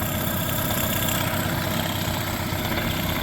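A 1995 Mercury 8 hp two-stroke outboard motor runs steadily at a constant idle, a dense, even engine drone with buzzing vibration filling the whole short stretch and no talking over it.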